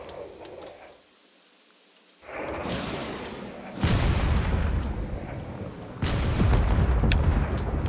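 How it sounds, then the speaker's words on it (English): A barrage of torpedoes in a naval video game, heard as a brief hush followed by successive loud roaring launches and impacts, three heavy surges building in layers of booming noise. "there's another barrage of torpedoes coming in"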